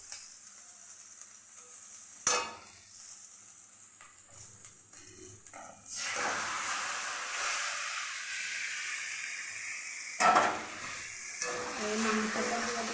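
Meat dropped into hot oil already cooked down with spices gives a sudden loud sizzle, with a second burst a few seconds later; a steady frying hiss and stirring scrapes carry on between them, with no one talking.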